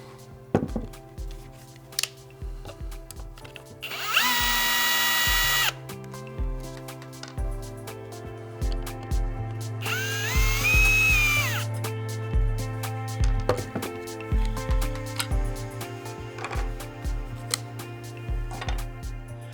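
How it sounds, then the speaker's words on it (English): A power screwdriver with a Torx 15 bit backs screws out of the ring on a Festool OF 1010 REBQ router. It gives two short bursts of whirring motor whine, each under two seconds long, over steady rhythmic background music. "Using a Torx 15 screwdriver bit, remove this black ring here, followed by the plastic shroud."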